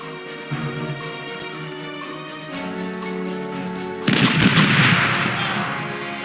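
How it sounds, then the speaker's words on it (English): Ship cannons fire a broadside in the pirate video game Corsairs Legacy: a loud, dense burst of booming blasts breaks out partway through, over a steady musical and ambient background. "We're reloading! Starboard is ready to fire!"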